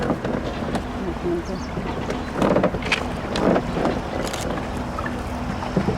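A boat motoring along a river past a Slovak boat, a low engine hum under wind buffeting the microphone, with faint voices and splashes mixed in.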